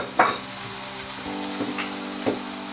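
Achar masala and spices frying in hot oil in a pan, a steady close sizzle with scraping stirs of a utensil cutting through at intervals.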